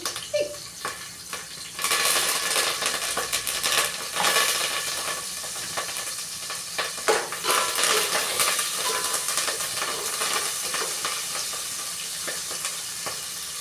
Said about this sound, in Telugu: పచ్చిమిర్చి ఉల్లిపాయలు వేసేస్తున్నాను.